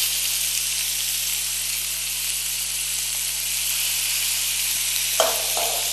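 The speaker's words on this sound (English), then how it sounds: "Now I'm just pan grilling it." Meat sizzles steadily in a pan on the stove, a constant close frying hiss with a couple of faint clinks near the end.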